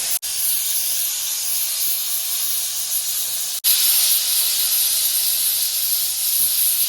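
A pressure cooker cooking chicken madhoot, loudly and steadily releasing steam, with a continuous close hiss that breaks off once for a moment and then resumes slightly louder.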